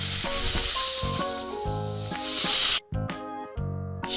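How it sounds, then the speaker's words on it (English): A snake gives a long, loud, breathy hiss lasting a few seconds, heard over a cheerful backing melody; a second short hiss follows near the end. "Snake."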